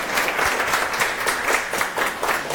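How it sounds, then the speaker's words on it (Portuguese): An audience at a talk on the educating city and urban learning spaces applauds, a dense, steady patter of many hands clapping close by, with no speech over it. "gostaria de uma salva de palmas para o Devani."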